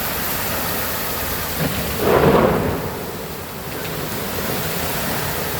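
Steady heavy rain hisses throughout, with a low rumble of thunder swelling around the middle before fading back into the downpour.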